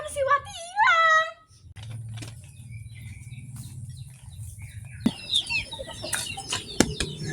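A chicken gives a quick burst of squawking clucks at the start, followed by a quieter stretch and then scattered chirpy calls, with people talking nearby.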